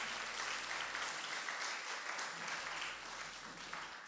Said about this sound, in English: Could we give her a nice round of applause